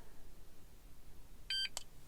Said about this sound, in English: Listen for it to beep